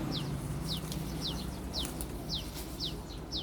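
High, thin chicken chirps repeat about twice a second in a steady rhythm over a constant low outdoor rumble in a vegetable garden where ducks and chickens are kept.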